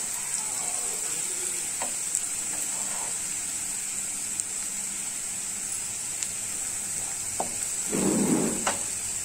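Ginger garlic paste and green chilli sauté in a pan with a steady close sizzle, dotted by occasional light clicks and a brief louder stirring scrape near the end.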